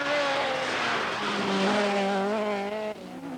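A 1982 Opel rally car with failing brakes runs a stage of the Ulster rally, engine droning loud and close with steady harmonic whine, pitch dipping and rising as it works through a corner, dropping slightly near the end.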